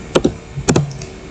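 A few quick keystrokes on a computer keyboard while a terminal command is entered, with two pairs of crisp close taps separated by a short pause, loud and alone.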